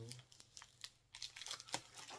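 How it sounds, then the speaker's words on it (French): Adhesive tape peeled from the cardboard of a 12-LP Prince Diamonds & Pearls super deluxe box set, giving soft crinkling and tearing pulls in short bursts, close and quiet. "si on enlève le scotch, ça arrache tout."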